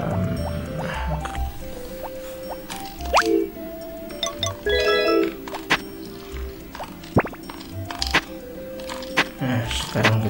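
Watering crops in the farming video game Harvest Moon Back to Nature: a series of short synthetic drips and plops repeat at irregular intervals over a faint game background, fairly clear and close, with no talking.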